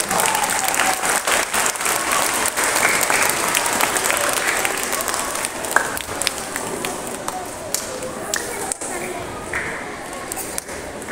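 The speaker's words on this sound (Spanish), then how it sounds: "Un fuerte aplauso para ellos, por favor." An audience at a primary school cultural week cheers and applauds loudly for a third-grade class performance. Dense clapping runs throughout with scattered sharp claps and voices mixed in, gradually easing toward the end.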